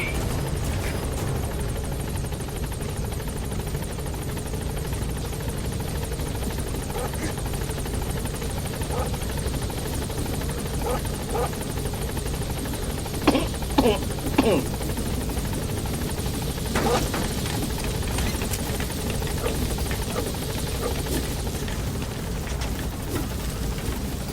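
A B-Quad helicopter in Metal Gear Solid V: The Phantom Pain thrums steadily as it arrives at a landing zone, its rotor drone continuous and loud throughout, with a few brief clicks and knocks cutting through near the middle.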